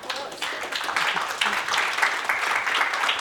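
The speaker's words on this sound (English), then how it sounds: "Big round of applause." An audience clapping after a conference talk on client and agency relationships, a moderate round of applause that swells in after a quiet start and holds steady, with some voices mixed in.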